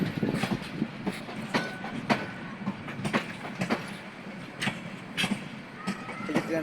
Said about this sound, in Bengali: এই যে ট্রেন চলে যায়